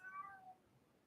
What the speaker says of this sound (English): My cat is at my door meowing at me like meow.